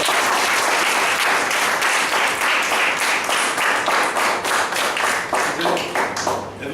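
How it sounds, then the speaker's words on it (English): A room full of people applauds Sujay at a ceremony, with dense, loud clapping that holds steady before thinning into separate claps at the end. "Give him a lot of applause."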